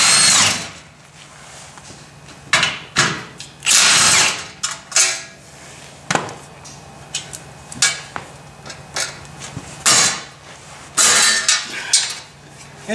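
A power tool with a 16mm socket whirs in repeated close, loud bursts while removing skid plate support bolts on a Jeep JT, with clanks of metal parts between the runs.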